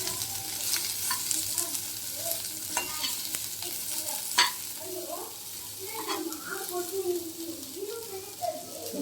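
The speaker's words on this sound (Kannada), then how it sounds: "ಮಾವಿನಕಾಯಿ ಹಾಕ್ತಾ ಇದ್ದೀನಿ. ಇದು ಸಹ ಸ್ವಲ್ಪ ಫ್ರೈ ಆಗಬೇಕು." Raw mango pieces sizzle softly in a pan while being stirred, with scattered scrapes and light clinks of the spoon against the pan over a steady frying hiss.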